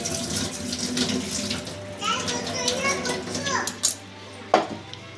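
Cut potato pieces are washed in water with swishing, splashing sounds and a couple of sharper sloshes near the end, as voices talk over them.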